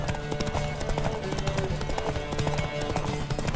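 Rhythmic clip-clop of a horse's hooves at speed in The Witcher 3: Wild Hunt, steady and continuous under game music and ambience, with no talk over it.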